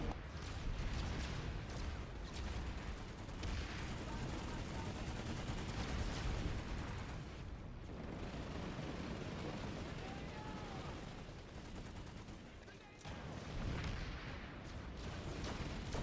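Bursts of NS11 CP carbine fire rattle repeatedly amid other gunfire in a PlanetSide 2 battle, dense and continuous with brief lulls.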